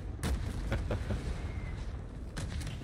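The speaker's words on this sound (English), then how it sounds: "I got a mortar strike." Mortar strike in a shooter video game: a run of deep booming impacts and blasts rolls out one after another, loud and close, with a rumbling tail between hits and no talking over them.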